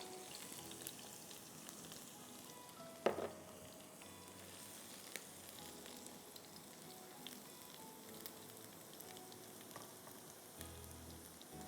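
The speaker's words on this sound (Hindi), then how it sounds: "गार्लिक को थोड़ा सा हम फ्राई करेंगे" Garlic fries in a pan with a soft, steady sizzle and crackle, fairly quiet, broken by a single sharp clink or knock and a few faint taps.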